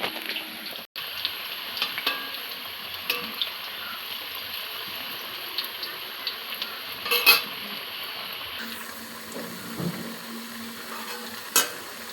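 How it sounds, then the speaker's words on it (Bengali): Potatoes fry in a pan with a soft, continuous sizzle, punctuated by a few sharp clicks and scrapes of a utensil, with no one speaking. "এই যে বন্ধুরা আলু ভাজা হয়ে গেছে"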